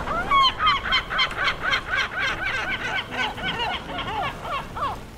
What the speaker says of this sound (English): And so we hear the seagulls.